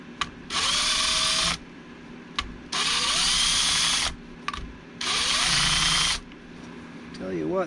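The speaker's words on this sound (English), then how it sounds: "A little pressure with the drill and my finger kind of guiding it." Cordless drill lapping the valves of a Yamaha Moto 4 YFM225 ATV engine, whirring in three steady bursts of about a second and a half each, separated by short pauses, close and loud.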